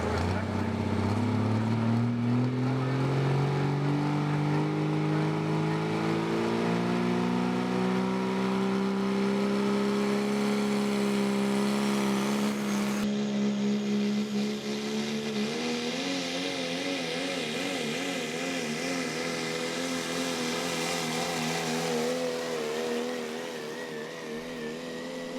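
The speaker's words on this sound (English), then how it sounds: "So let's see what the Chapter 11 truck can do here." A Chapter 11 super modified pulling truck roars during a truck pull, its engine climbing steadily in pitch under full load for over twenty seconds before the sound shifts and eases near the end; a commentator talks over it.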